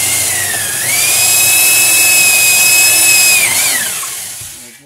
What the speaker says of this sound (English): we'll drill our hole in the middle of the stud